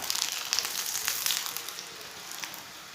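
A methi paratha sizzles and fries softly on an oiled pan, a faint steady crackle with small bursts of spattering oil and no voices.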